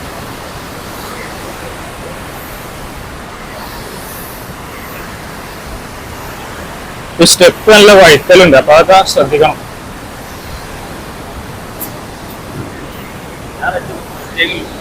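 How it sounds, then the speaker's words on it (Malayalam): Water rushes forcefully past the Upper Sholayar dam, a loud, steady roar that fills the whole stretch, with a person talking briefly over it partway through. "നല്ല ശക്തിയിലാട്ടോ വെള്ളം ചാണ്ട്"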